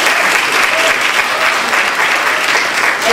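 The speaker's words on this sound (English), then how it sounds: "So please give Nyree Gifford a big round of applause." Steady, dense applause from an audience at a scholarship presentation fills the room, loud and continuous throughout with no pauses.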